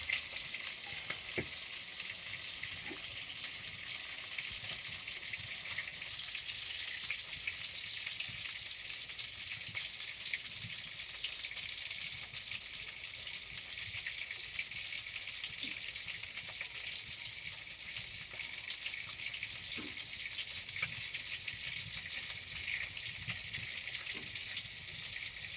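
Oil crackles and sizzles around fish frying in a pan, a steady close hiss lasting throughout with occasional small pops and light clinks, no voices.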